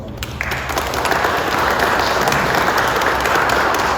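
A room full of people at a press conference breaks into a steady round of applause, dense and sustained clapping that builds within the first half second and holds at an even level throughout.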